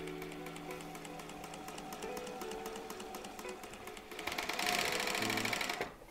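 A Kansai Special chain stitch sewing machine runs steadily with a fast, even mechanical chatter, rising to a louder, brighter whir for the last couple of seconds before easing off.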